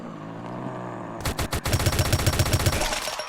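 Gunfire rattles in a Roblox shooter game on PS4: a few separate shots, then a rapid, even burst of automatic fire, loud and close with a quick rhythmic beat.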